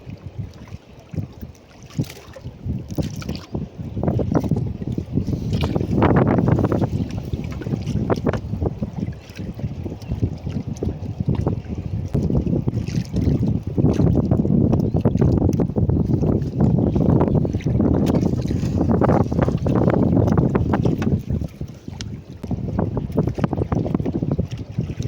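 Strong wind buffets the microphone outdoors near water, a loud continuous rumbling roar with gusty swells throughout and no talking.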